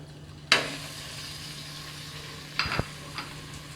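Mutton frying in a pan with golden brown onions for an Eid dal gosht: a steady close sizzle with a sharp clatter, then a few more knocks and stirring scrapes over the hiss.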